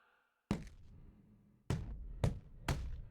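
Body-shot punches land in the boxing video game Fight Night Round 4, Muhammad Ali against George Foreman: four heavy, sudden thuds close up, the first after near silence and the last three in quicker succession.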